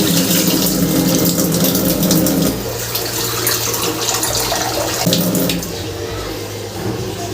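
Water pours steadily into a pot of rice for chicken biryani, a loud, continuous splashing gush that drops in level partway through and keeps running to the end, with no talk over it.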